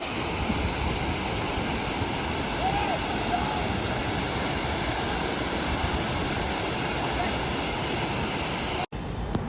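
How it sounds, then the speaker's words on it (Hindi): A waterfall near Banaras pours down fast and heavy, a loud, steady, close roar of rushing water that fills the whole clip and breaks off abruptly just before the end. "काफ़ी अच्छा वाटरफॉल है और बहुत तेज़ पानी भी यहाँ पे चल रहा है।"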